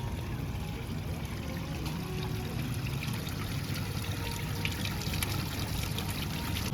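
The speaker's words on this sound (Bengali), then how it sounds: "যেখানে কিন্তু জল বেরোচ্ছে" Water trickles and pours steadily from a fountain at a Gautam Buddha statue in a decorated wedding venue, a soft continuous splashing wash heard alone at moderate distance.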